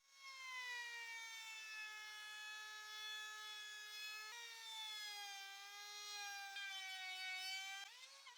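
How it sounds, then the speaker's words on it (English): A woodworking router with a 30 mm rounding bit rounds the edges of 45 cm wood pieces, a loud steady high-pitched whine held alone for the full stretch, dipping slightly in pitch as the bit bites in. "I'm going to use the router to round off 3 edges of these pieces"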